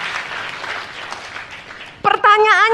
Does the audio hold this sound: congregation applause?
yes